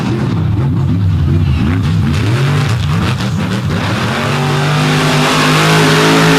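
Swamp buggy race engines rev and roar up and down in pitch, loud and close, with a commentator talking over them at a Naples racing show.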